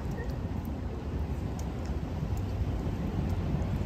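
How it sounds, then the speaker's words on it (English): Heavy rain pours down in Lisbon, a loud, dense, continuous roar with a low rumbling wash and no pauses. "It's raining so hard."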